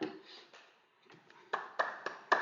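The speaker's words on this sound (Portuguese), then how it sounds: "palmas para ele, foi aprovado" Several sharp hand claps from a small group, sparse and uneven at first and then a few louder, distinct claps toward the end, recorded close up during a tarot course class.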